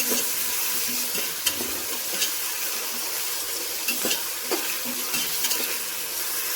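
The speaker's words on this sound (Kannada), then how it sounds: "ಒಂದು ಸ್ವಲ್ಪ ಚೆನ್ನಾಗಿ ಮಿಕ್ಸ್ ಮಾಡಿಕೊಂಡು 1-2 ನಿಮಿಷ ಇದನ್ನು ಎಣ್ಣೆಯಲ್ಲಿ ಫ್ರೈ ಮಾಡ್ಕೊಳ್ಳಿ" Mixed vegetables frying in oil for vegetable masala rice give a bright, continuous sizzle, and a spatula stirs through them in irregular scraping clicks. No one speaks.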